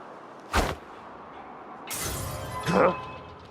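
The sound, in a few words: glass breaking in the video game Dishonored 2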